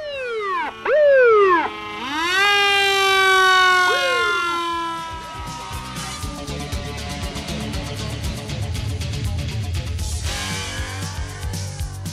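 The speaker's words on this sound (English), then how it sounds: "which emulates an emergency response by ambulances and fire trucks" Several ambulance and fire truck sirens wail and yelp together at an air show rescue demonstration in Southern California, sweeping up and down in pitch, loud and close, then blending into a dense, overlapping chorus.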